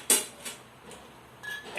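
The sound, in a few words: stirring curry ingredients in a pot on the stove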